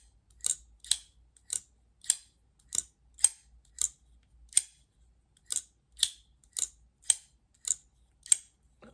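A folding knife flicked open and shut over and over, each action a sharp, crisp snap with a bright metallic edge, about fourteen clean clicks in a steady rhythm, close and alone against near silence.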